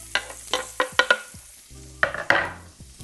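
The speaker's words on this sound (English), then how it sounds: "Now I'm going to add in some bright red onion." Bright red onion hits a hot pan, a sharp burst of sizzling followed by quick scrapes and clinks of a spatula in uneven bursts, close and fairly quiet with no voices.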